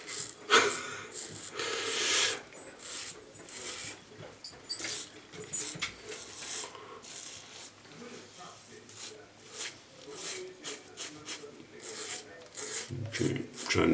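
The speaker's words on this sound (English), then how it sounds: "Trying not to talk when I'm shaving them." A razor draws across a lathered face in a long run of close, rasping strokes with short pauses and soft breathing between them.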